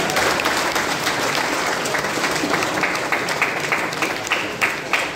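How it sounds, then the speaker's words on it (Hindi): A crowd at a finance company's 35th foundation day celebration keeps up lively, sustained applause, a thick roll of clapping with a few sharper claps near the end. "तालियां बजती रहनी चाहिए।"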